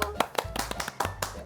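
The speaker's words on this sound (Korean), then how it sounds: "박수!" On a children's play-and-learn show, people clap quickly and rhythmically in bright, evenly spaced bursts to welcome a teacher. The claps are close and fairly loud, with voices mixed in.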